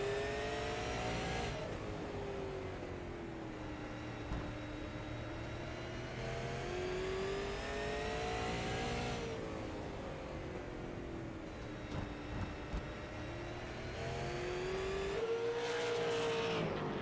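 A dirt super late model race car engine howls under throttle, rising and falling in long sweeping revs as it cycles through laps, loud and close with no voices.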